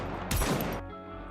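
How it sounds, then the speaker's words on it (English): A short, dense burst of rapid gunfire from the game Goddess of Victory: NIKKE, about half a second of crackling shots, fairly faint, set against a quiet low background. "As if sensing their presence has been revealed, gunfire rains down from the other side."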